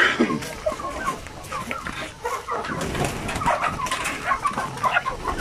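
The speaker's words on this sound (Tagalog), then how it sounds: "Ipapakita ko sa inyo yung itsura ng isang Sampi native chicken." Sampi native chickens clucking and calling together in their pen, a dense, busy chorus of close, overlapping clucks and squawks that goes on without pause.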